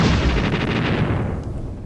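Rapid weapon fire from the space game Uprising at full power, a dense rumbling stream of booming shots that tapers off over two seconds.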